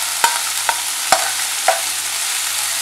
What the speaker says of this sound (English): I'm going to add tomatoes. And again, I'm going to cook till the tomatoes are cooked well.